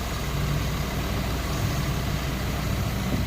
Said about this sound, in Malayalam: അപ്പോൾ ഇവർ വണ്ടി എടുത്ത് മെല്ലെ നീങ്ങാണ്